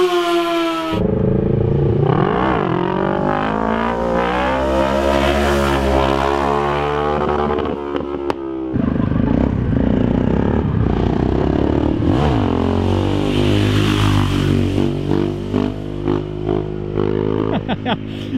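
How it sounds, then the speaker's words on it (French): Motorcycles including a Yamaha XJ6, an MT and a KTM 640 roar past on one wheel, engines revving loud and near with sweeping passes and gear changes. "ils vont passer en wheeling"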